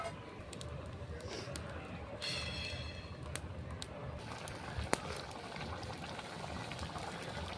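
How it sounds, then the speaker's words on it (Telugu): Village-style chicken curry with added water boils in a pot, giving a steady bubbling hiss with faint crackles throughout and one sharp click near the end. "ఎలా ఉడుకుతుంది చూడండి"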